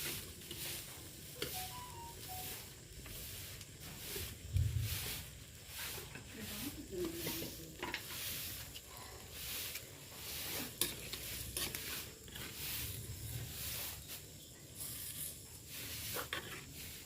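Food sautéing in a pan with tomato juice added, a spoon stirring it with soft scraping and a low steady sizzle throughout, fairly quiet and close, with occasional clinks.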